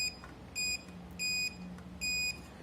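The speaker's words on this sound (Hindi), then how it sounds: "ऑफलाइन में सिर्फ बीप साउंड सुनाई देता है" A multimeter in continuity mode beeps while tracing connections on a powered-off laptop motherboard near the MOSFETs, giving three sharp, high electronic beeps spaced about a second apart over a quiet background hiss.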